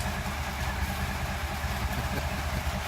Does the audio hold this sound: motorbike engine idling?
yes